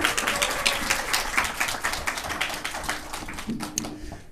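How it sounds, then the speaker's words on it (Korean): Audience applause in a basement hall at an information session for the Korea Leadership School, welcoming the school's principal: a dense, steady patter of many hands clapping that lasts throughout and fades slightly toward the end. "모두 뜨거운 박수로 맞이해 주세요"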